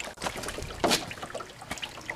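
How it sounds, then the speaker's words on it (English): Water runs into a laundry wringer tub in an off-grid setup, a soft trickling and splashing that continues steadily at moderate loudness, with no talk over it. "Porter, can you go turn off the water?"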